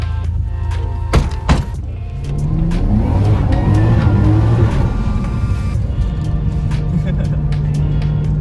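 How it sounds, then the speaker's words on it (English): A Toyota JZX90 with newly installed coilovers pulls away on a hill for a test drive. The engine revs up and holds a strong, close drone, with a voice briefly heard over it. "let's go ahead and go for that test drive"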